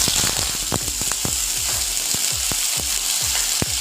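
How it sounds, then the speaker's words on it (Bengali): Medium potatoes fry in hot mustard oil in a wok with a constant bright sizzle, and repeated sharp taps and scrapes of the spatula stir them close by with no voices. "আলু কেটে রেখেছি দুটো মিডিয়াম সাইজের সেটাকে ফ্রাই করে নেব"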